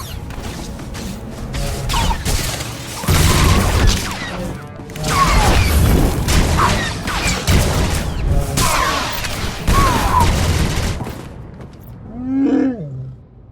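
Blaster fire from a Star Wars: The Old Republic smuggler battle on Nar Shaddaa, dense overlapping energy-weapon bursts crackling over loud combat noise and a creature roar, ending in a brief quieter stretch.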